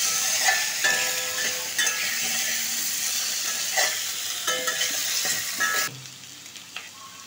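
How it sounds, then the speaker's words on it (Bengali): Potatoes with spices and salt stir-fry in a pan for an egg curry, a constant loud sizzle with repeated sharp scrapes and clinks of the spatula, quieting near the end. "নুন দিয়ে আবার আমি এগুলোকে ভালোভাবে 2 থেকে 3 মিনিট একটু কষে নেব"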